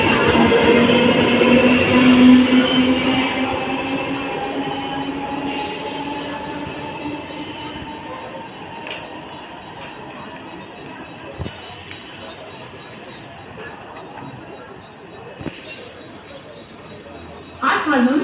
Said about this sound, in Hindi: मुंबई छत्रपति शिवाजी महाराज टर्मिनसला जाणारी जलद लोकल आज प्लेटफॉर्म क्रमांक 2 पर आने वाली है।